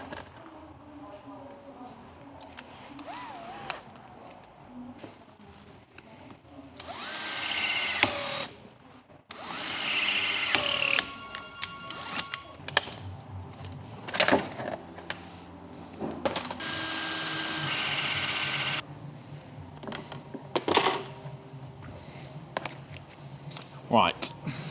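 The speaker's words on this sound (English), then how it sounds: "we're drilling into the boot" A power drill bores into the boot of a 4.2 Audi Q7, whining in several sustained bursts between short pauses, with people talking over and between the drilling.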